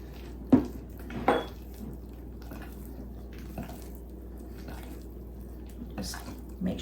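A spoon scrapes and clinks in a bowl while a stuffed-shells filling with spinach is stirred, a few distinct taps standing out over a soft continuous mixing sound with a quiet background hum.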